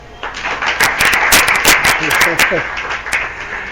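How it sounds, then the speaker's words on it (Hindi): An audience at a satsang gathering in a home claps in a burst of scattered, fairly close handclaps, with voices talking over and among the claps. "अब बजाओ ताली।"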